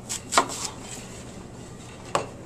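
Knife cuts through a red Honeycrisp apple in a few sharp, close chopping taps, two quick strikes early and one more after a short pause.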